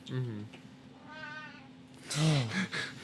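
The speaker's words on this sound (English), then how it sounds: "Here's a kitty." A cat gives a couple of clear meows close by, with people chatting softly in the background.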